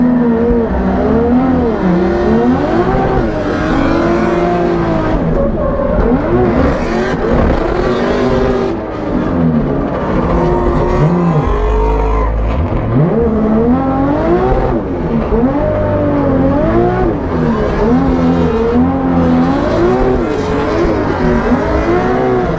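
A BMW E36 drifting in fourth gear at a drift event, its engine screaming at high revs with rising and falling pitch, loud and close, along with tire noise and no talk.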